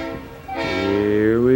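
A model subway train horn sounds one sustained, rising honk that swells in loudness and holds to the end, close and dominant, with a brief voice just before it.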